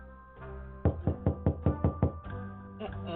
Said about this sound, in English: I opened my eyes to the incessant sound of fists banging on my door.